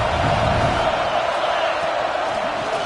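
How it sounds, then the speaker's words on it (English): A stadium crowd in the College Football 26 video game roars steadily near the goal line, a dense sustained wash of cheering with no clear pauses. "This crowd knows when to bring it."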